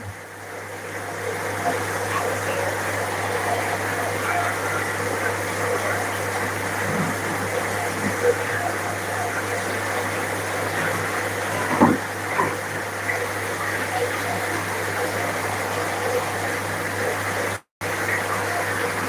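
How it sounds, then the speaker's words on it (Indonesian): A small fish pond for red tilapia with an LP60 aerator and a little waterfall gives a continuous even gush and splash of falling water over a low steady hum, close and constant, with a brief cut near the end. "Aerator terus tambahin air terjun kayak gini."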